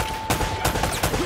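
Gunfire in the video game Uncharted: Drake's Fortune, a few sharp shots spaced across a second with busy game ambience beneath, no talking.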